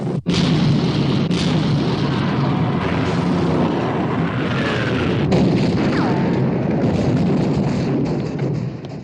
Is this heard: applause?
no